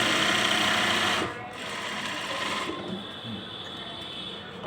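An electric sewing machine stitches a shirt collar in short loud runs, a rapid mechanical whirring and clatter that stops and restarts, with brief pauses as the fabric is adjusted.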